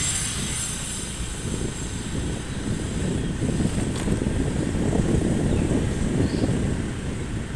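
A motorcycle rides at an easy, unhurried pace on a roughly one-kilometre trip from home to a banana garden. A steady engine drone mixes with constant wind rush throughout, with no talking.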